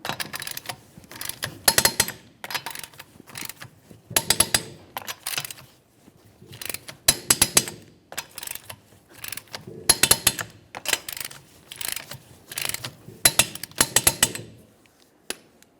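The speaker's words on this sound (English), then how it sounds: "we'll torque these to 83 foot-pounds in a crisscross manner" A torque wrench tightens rear forward lower control arm bolts to 83 foot-pounds on a 2012-2018 Nissan Altima, making repeated bursts of sharp ratcheting clicks with short pauses between them, close and fairly quiet.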